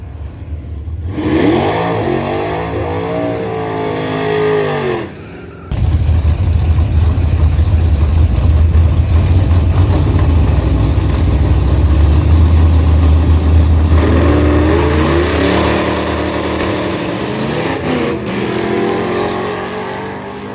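Drag race car making a test pass at a nostalgia drag strip: the engine idles and revs, falls briefly quiet, then roars loud and sustained at full throttle for most of the run before easing off.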